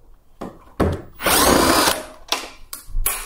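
A power drill whirs in several short bursts while backing screws out of an AEG 7000 Series dryer's panels, with one longer sustained run in the middle, close and loud, separated by quiet pauses.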